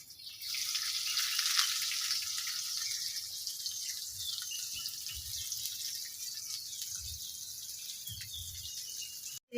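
Chopped onions fry in hot oil for lentil fritters, a steady bright sizzle running throughout at close range with faint background knocks.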